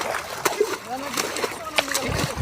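Water splashing in a river during a family outing, several bright splashes scattered across a couple of seconds, close by, with children's and adults' voices chattering over it.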